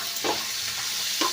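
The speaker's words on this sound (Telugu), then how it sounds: "ఉప్పుని, వీటిని కూడా వేసుకొని కొంచెం సేపు వేపండి" Spices and salt frying in a pan for a bottle gourd chutney, a steady dry sizzle with two brief scraping stirs near the start and end, close and moderately quiet with no voices.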